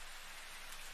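Rain falls steadily in a One Piece anime episode, a dense, even hiss of drops with no other sounds over it.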